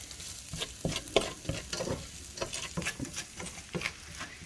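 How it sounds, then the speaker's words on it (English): Chicken fried rice being stirred in a hot pan, repeated scraping and tossing clatters over a soft sizzle, close, in irregular bursts without talk. "Mix that around. Make sure it's good and mixed in."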